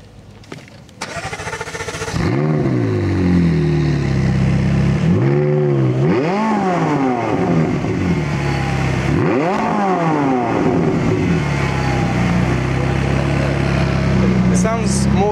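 A classic car fitted with a full titanium exhaust system revs hard several times at a classic and supercar show, loud and close, its rising-and-falling rasp settling into a steady roar with people talking beneath.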